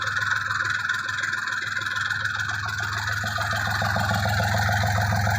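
A mini tractor engine runs at a steady idle-like chug while potatoes are planted, a constant close mechanical drone with a low throb that holds throughout, no speech over it.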